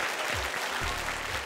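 Audience applause after a dance performance on a Hindi TV talent show, steady dense clapping with low voice-like sounds murmuring beneath it.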